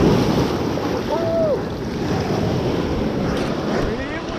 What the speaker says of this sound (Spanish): Ahí viene la ola, por la derecha.